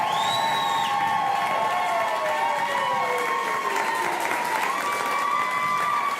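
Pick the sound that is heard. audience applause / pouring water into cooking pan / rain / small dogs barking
audience applause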